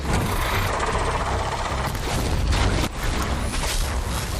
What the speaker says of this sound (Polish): Strzały. O nie, tam dużo do mnie strzela.